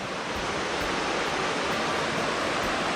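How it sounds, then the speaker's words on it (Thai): A waterfall in Laos roars as a steady, loud, broadband rush of falling water, continuous throughout with no voices. "เนี่ยน้ำตกท่านผู้ชม"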